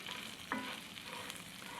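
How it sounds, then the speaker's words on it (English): Steady, faint sizzling of rice frying in a pot, with light crackles and small pops scattered through a continuous frying hiss. "you can hear the rice cracking and popping. It's frying"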